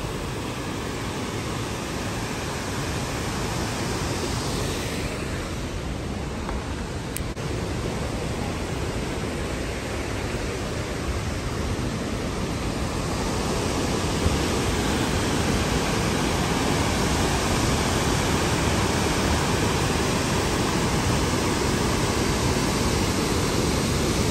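A steady, roaring rush of falling water fills the scene continuously, loud and close, with no voices over it.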